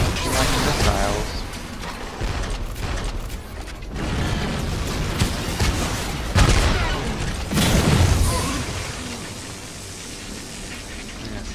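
Missile blasts in the video game Hard Reset, with heavy booms and rumbling detonations in bursts, loud and close, interleaved with mechanical clanks and debris.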